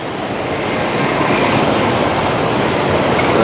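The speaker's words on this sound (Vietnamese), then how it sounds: "Xe máy rất là nhiều luôn, rất là hỗn loạn." Dense, steady roar of heavy street traffic packed with motorbikes at a busy Saigon intersection in District 1, a continuous close wash of engines and tyres with no voices.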